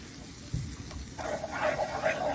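Butter fat being stirred into turkey gravy in a hot pan, a soft sizzle with brief scraping stirs, close and quiet.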